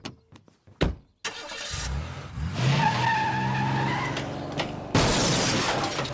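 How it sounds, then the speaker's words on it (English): Cartoon pickup truck reversing into a parked car: a few quick knocks, then a loud engine and skidding roar with a crunching impact and a second burst of noise near the end, with no talking. "Peter accidentally backs his pickup truck into Quagmire's car"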